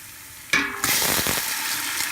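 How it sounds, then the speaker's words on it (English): Marinara sauce hits a hot frying pan with a sudden loud hiss, then settles into a steady, crackling sizzle close by. "And when you hear that sizzling, you know you're doing a good job."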